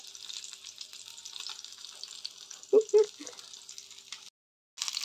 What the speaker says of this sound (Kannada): ಮೀನು ಫ್ರೈ ಆಯಿತು, ಚಂದ ಬಂದಿದೆ, ರೆಡಿ ಆಯಿತು.